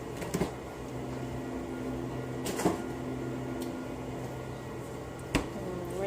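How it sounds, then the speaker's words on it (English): A freezer door is shut in a home kitchen, with a few short knocks and thuds over a steady appliance hum, one near the start, one mid-way and a last thump near the end. "Put this back in the freezer."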